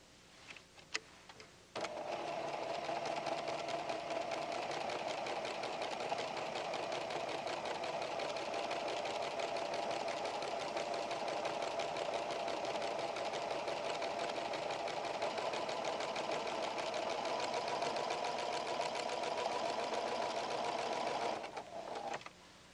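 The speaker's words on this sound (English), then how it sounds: "Let me sew one for you." Pfaff creative 7550 sewing machine stitching a tuck with twin needles, a steady rapid mechanical hum starting after a brief click, running evenly and close for about twenty seconds before stopping.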